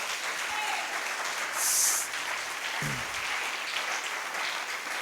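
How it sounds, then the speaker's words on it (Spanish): A church congregation breaks into applause during a Sunday sermon, a steady wash of clapping that fills the room for several seconds, with a brief louder swell partway through and no voices on top. "Dele un aplauso al Señor"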